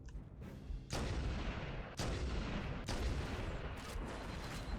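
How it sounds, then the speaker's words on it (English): Heavy mortar blasts in a Halo battle: three sharp booming impacts land about a second apart over a constant rumble of combat noise, with a fainter crack trailing near the end. "they throw mortars!"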